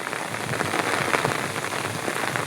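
Rain falls steadily on a groundnut field in Jamnagar, Gujarat, a dense patter of individual drops on nearby surfaces forming a constant hiss, heard alone without voices.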